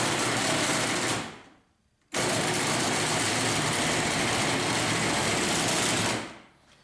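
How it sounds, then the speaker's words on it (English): A Genie garage door opener motor hums loudly and steadily, cuts out for a moment, starts again at full strength and then fades away near the end. "When I was trying to run it electrically, it just hums."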